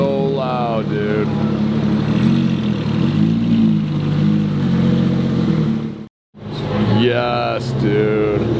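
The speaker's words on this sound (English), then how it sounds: "Right in front of the Speedster. This thing is so loud, dude." Porsche 911 Speedster engine revving loudly up close, with rising and falling rev sweeps, a sudden brief cut near the end, then more revving, while someone talks over it.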